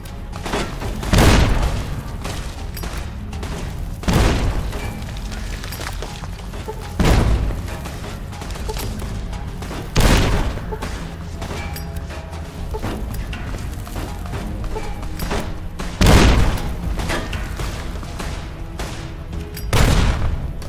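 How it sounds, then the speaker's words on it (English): Dynamite goes off in the video game Fallout New Vegas, with deep booming blasts every few seconds over a continuous loud bed of gunfire and combat noise. "I love dynamite, it's so fun."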